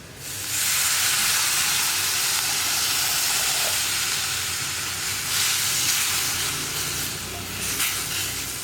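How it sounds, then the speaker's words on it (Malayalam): Tamarind water hitting a hot pan of tempered spices while making puli inji, setting off a loud, broad sizzling hiss that holds steady and close throughout. "ഇനി ഇതിലേക്ക് നമ്മൾ എടുത്തു വെച്ചിരിക്കുന്ന പുളിവെള്ളം ചേർത്ത് കൊടുക്കാം"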